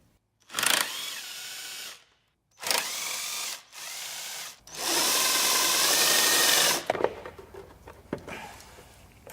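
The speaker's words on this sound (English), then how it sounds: "next we're going to remove this bottom piece that's held in place by these three bolts" A power tool, probably an impact driver, runs in several bursts of steady whirring while removing three bolts from the bottom piece of a car's shifter assembly, followed by clattering and ratcheting clicks; loud, close and without talk.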